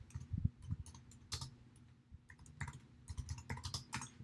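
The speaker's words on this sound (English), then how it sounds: "So I'm going to type in income statement." Keys on a computer keyboard are struck in quick irregular bursts, close and fairly quiet, with short pauses between the clusters of clicks.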